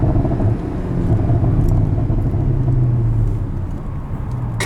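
A 2016 Porsche Boxster Spyder engine pulls hard at around 4,000 RPM while driving, a dense rumbling roar that holds strong and close over road noise throughout.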